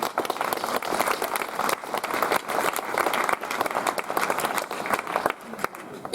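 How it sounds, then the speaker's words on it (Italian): An audience at an outdoor poetry event applauds for Zio Angelo, with moderate, slightly uneven clapping that carries on for several seconds, marked by sharper individual claps. "Un applauso a Zio Angelo."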